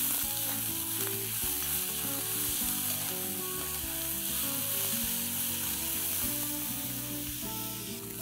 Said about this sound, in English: let's fry these onions till they are nice, soft and translucent